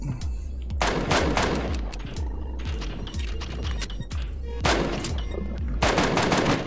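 Pistol gunshots ring out in a steady hiss of outdoor noise, a few sharp reports with echoing tails spaced across the span, some louder and closer than others.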